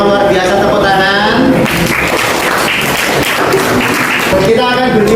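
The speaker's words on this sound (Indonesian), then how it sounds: "Kalian semua luar biasa, tepuk tangan." A class applauds at the end of a lesson, clapping continuously under a loud voice that keeps speaking over it.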